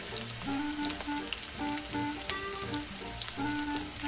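Garlic sizzles in hot oil with a dense, crackling hiss and scattered pops, steady and close throughout with no voices.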